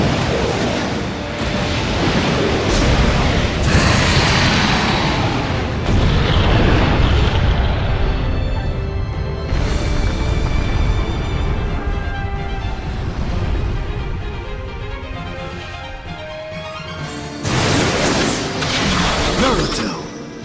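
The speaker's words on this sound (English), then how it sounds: "Fire style! Majestic flame jutsu!" Roaring fire blasts and heavy booming explosions from a fire-style special attack in a Naruto ninja fighting game, loud and sustained with surging waves and a voice shouting over them.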